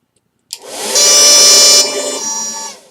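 A hair dryer wired backwards to a small device switches on with a click and runs as a loud, steady, high whine and rushing airflow, easing slightly toward the end, with no talk.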